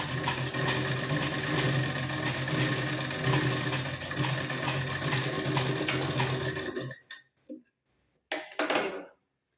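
A home sewing machine runs steadily, stitching back along a tuck on a blouse, then stops near the end and leaves a few short clicks and handling noises.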